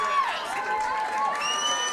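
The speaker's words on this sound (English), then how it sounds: "Handshakes all around, applause from the stands" A high school football crowd in the stands cheers and claps after the game, a steady, bright wash of distant voices and applause that holds evenly for a couple of seconds.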